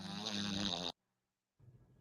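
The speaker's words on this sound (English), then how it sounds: "he gets into that deep snore" Deep, rumbling snore from a man sleeping on his back, one long loud rasping breath close by, then a pause of silence before the next quieter intake begins.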